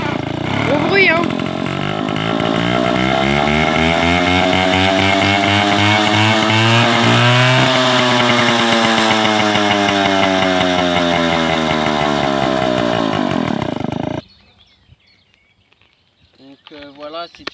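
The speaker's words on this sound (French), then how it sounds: "je vais vous montrer un peu comment elle démarre" Motobécane AV42 moped two-stroke engine running loud and close after starting, a buzzing, chainsaw-like drone that swells as it is revved, then cuts off abruptly, leaving faint background sounds.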